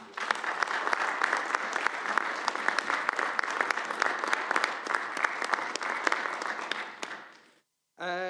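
Steady applause fills a council chamber, a sustained wash of many hands clapping for several seconds before it stops abruptly and a voice resumes.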